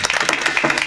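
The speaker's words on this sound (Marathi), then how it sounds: "शास्त्रीजीसाठी जोरात टाळ्या वाजवा" A kirtan audience claps for Shastriji, a brief dense burst of applause from many hands, steady and fairly loud.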